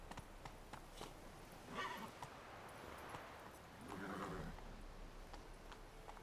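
Roach, Geralt's horse in the video game The Witcher 3, with faint hoofbeats and a couple of brief whinnies over low ambient game sound, quiet and fairly distant.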